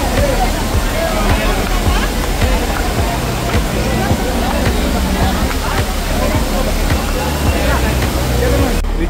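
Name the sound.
main Amboli waterfall, Konkan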